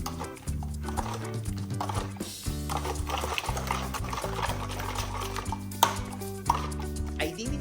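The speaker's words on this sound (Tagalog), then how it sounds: "At saka ako naman aray hahaluin nang sa ganun ay matunaw nga aring mga pampalasa na pinaglalagay ko din." A spoon clacks and scrapes against a bowl in quick, irregular strokes while a soy sauce, calamansi and Sprite marinade for roast chicken is stirred, with a steady musical backing underneath.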